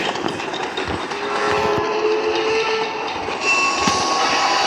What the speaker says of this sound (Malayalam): ട്രെയിനിൽ തന്നെയാണോ പോകുന്നത്?